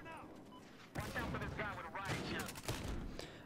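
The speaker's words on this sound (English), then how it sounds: "That's a shotgun." Video game shotgun blasts ring out in quick succession over a noisy firefight, with a player's voice talking over the shooting.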